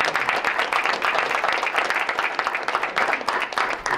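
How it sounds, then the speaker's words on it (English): A school board meeting audience gives a sustained round of applause, many hands clapping in a dense, even roar that stays steady and fairly loud throughout. "let's give Tom and John a round of applause"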